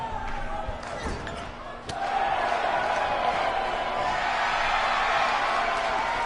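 A crowd at a WWE 2K19 wrestling match roars and cheers continuously, a dense swelling wash of noise with a couple of sharp thuds early on.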